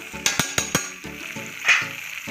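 Spiced potatoes and aubergine frying in a pan are stirred, with several sharp spoon scrapes and clinks over a soft sizzle.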